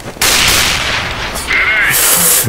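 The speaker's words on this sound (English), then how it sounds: "Deploying flashbang" A flashbang grenade detonates in Counter-Strike: Global Offensive, a loud sustained burst of bright hiss and blast noise followed by a high ringing tone, with a second noisy surge near the end.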